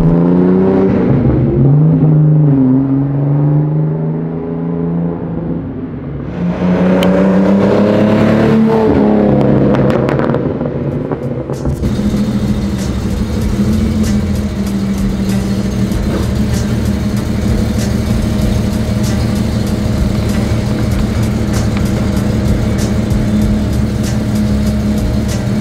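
A 1972 Datsun Fairlady 240Z engine revs hard, rising and falling through several blips before settling into a loud, sustained high idle, with popping and crackling from the exhaust, close and with no talk.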